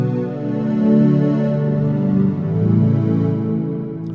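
Still Night synth pad playing soft, sustained chords that swell and fade in slow waves, warm and smooth with long overlapping tones and no voices.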